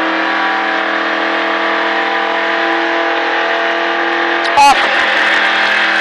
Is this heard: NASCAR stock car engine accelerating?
yes